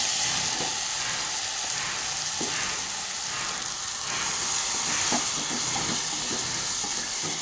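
Ground green chili thecha hits a hot oil tempering and sizzles steadily and loudly up close, a constant hiss with a few faint clicks of a spoon against the pan.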